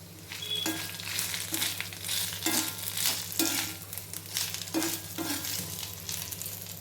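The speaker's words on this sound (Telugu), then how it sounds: "దీంట్లో వేసి కొంతసేపు అట్లా వేపుకుందాం" Ginger garlic paste frying in a pan, with a continuous loud sizzle and repeated scraping stirs at a steady rhythm, close up, with no voices.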